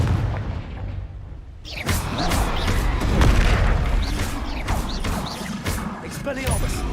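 Confringo blasting spell in the Hogwarts Legacy video game, a sudden heavy boom after a quiet start, followed by repeated punchy blasts and crackling impacts over several seconds of combat.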